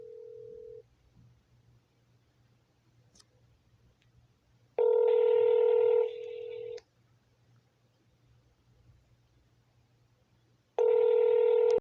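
Touch-tone telephone keypad dialing on a hotel phone line, with steady tones in bursts followed by ringback, two loud sustained tone segments separated by quiet gaps over a faint low hum.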